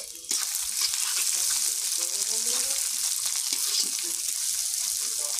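Onion drops onto garlic already reddened in hot oil, setting off a sudden loud sizzle that settles into a steady frying hiss with a few stirring scrapes, and a voice talks faintly underneath.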